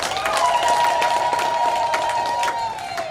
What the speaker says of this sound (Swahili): Naomba tumpigie makofi na vigelegele.